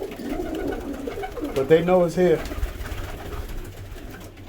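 Low rolling coos from domestic pigeons at a loft feeding area rise clearly for a moment under and between a man's speech, with a faint murmur of other birds behind.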